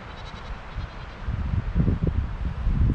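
Goats on a mountain trail bleat in short bursts close by, with rustling and wind in the background.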